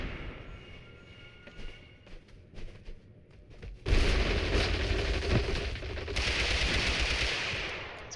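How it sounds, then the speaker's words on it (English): A grenade blasts amid gunfire in the battle royale game TABG: sparse shots crack at first, then a sudden loud explosion gives way to a sustained heavy roar of rapid gunfire that slowly tapers off. "It's a grenade."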